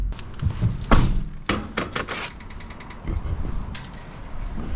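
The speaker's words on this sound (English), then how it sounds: "Let's shut all four doors up." Doors of a brand-new Scania Super truck slamming shut, several close, heavy thunks with mechanical clicks in quick succession, then a quieter mechanism noise afterward.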